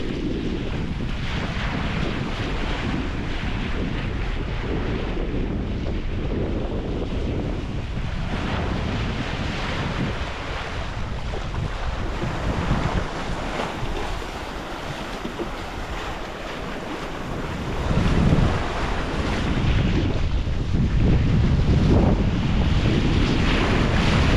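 Wind buffets the microphone as a sailing boat runs on a beam reach under sail alone with no engine off the Cornish coast, waves washing and slapping against the hull in a steady rush that swells louder near the end.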